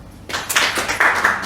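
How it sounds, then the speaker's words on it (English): Clapping from a group gathered at a post-bhajan MahaShivRatri session, a short burst of close, bright claps starting abruptly and continuing in uneven bursts. "Clap for her."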